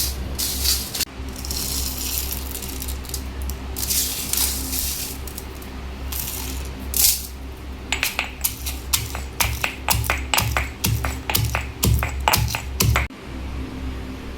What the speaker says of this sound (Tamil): ஆறி வந்ததுக்கப்புறம் இந்த உரலில் போட்டு நம்ம இடித்து எடுத்துக்கலாம்.